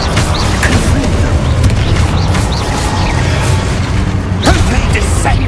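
A Confringo blasting spell explodes in a Harry Potter video game: booming bursts and mechanical clatter fill a dense, loud battle soundscape, with voices calling out at times.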